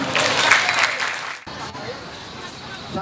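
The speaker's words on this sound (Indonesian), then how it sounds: "Tepuk tangan." Audience applause at a public event in Banjarmasin, a dense burst of clapping that fills the first half, then breaks off into a quieter room tone with faint crowd murmur.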